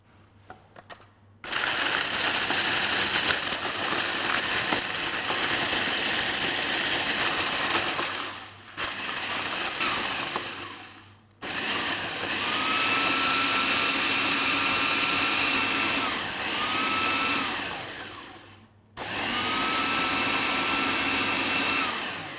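A food processor whirs as it crushes Marie biscuits, running in three loud, steady bursts separated by short pauses, close up with no talking.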